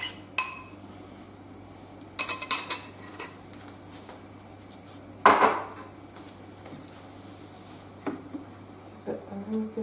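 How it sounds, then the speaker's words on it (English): A utensil scrapes and clinks in a pan of cooking mushrooms, several sharp metallic knocks with one louder clatter midway, over a low steady kitchen hum and no talk. "A little bit of a stir."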